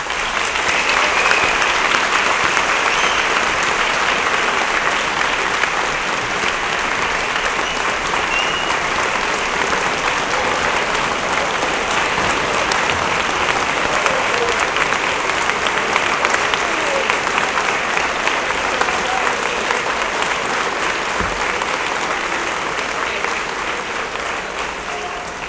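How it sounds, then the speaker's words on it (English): A large school awards-ceremony audience applauds the faculty and staff, a dense, steady roar of many hands clapping that holds evenly for the whole stretch. "Please join me in applauding the faculty and staff of our school."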